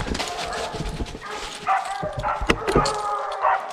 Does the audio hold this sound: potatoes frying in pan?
no